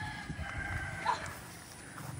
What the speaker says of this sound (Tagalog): Ayun, manok.